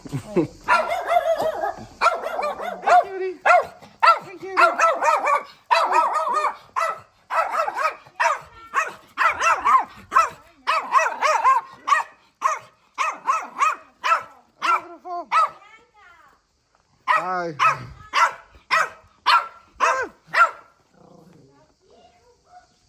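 A dog in Berat, Albania, barks close and loud in a long, rapid string of sharp barks, pauses briefly, then resumes. A person speaks a single short word.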